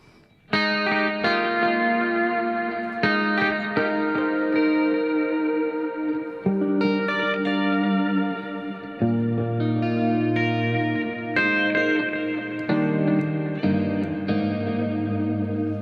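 Electric guitar through a Fractal VP4 multi-effects pedal playing sustained chords and arpeggios, clean tone with parametric EQ, shimmering with chorus, trailing delay echoes and a wash of reverb, with no voices.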